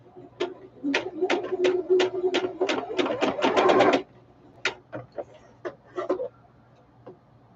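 A sewing machine stitching a seam in place, running in a rapid burst of even stitches, then slowing into scattered single stitches at close range, with a low hum beneath.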